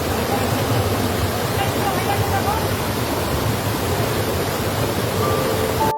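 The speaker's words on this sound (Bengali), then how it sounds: "দর্শক এই যে দেখেন বোয়ালিয়া ঝর্ণার একদম মুখ" Water rushes loudly and continuously at the head of Boalia waterfall in the Mirsarai hills, swollen after heavy rain, a dense steady roar heard close up.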